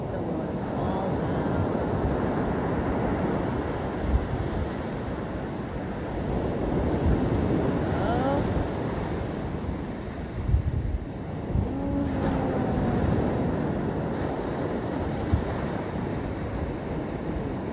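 Ocean waves wash steadily onto La Playa Negra beach in Costa Rica, a continuous broad roar of surf with gusts of wind, no voices.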